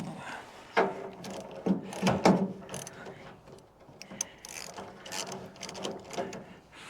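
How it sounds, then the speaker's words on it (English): A ratchet wrench works on the water pump of a Ferguson T20 tractor, giving close, uneven bursts of clicking that rise and fade as the handle is swung back and forth. "Flipping ratchet."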